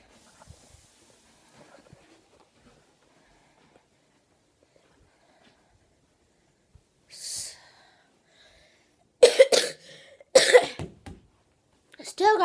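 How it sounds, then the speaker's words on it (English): A few sharp, harsh coughs near the end of a mostly quiet stretch, preceded by a brief breathy burst. "I still got that cough."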